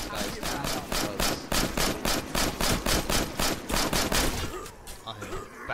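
Rapid gunfire from firearms shooting zombies in State of Decay, a loud, relentless string of evenly spaced shots over several seconds that thins out at the end, close and dominant.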